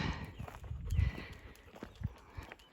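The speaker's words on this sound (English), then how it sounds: "There's Remy in the beginning now of his little trot out." A horse's hooves clip-clop in an uneven trotting rhythm on a hard surface, moderately close, with faint birdsong and outdoor ambience behind.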